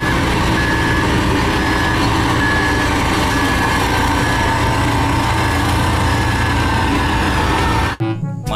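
A toy compactor truck plays a loud, continuous engine hum with a repeating electronic reversing beep. The sound runs steadily and cuts off abruptly near the end.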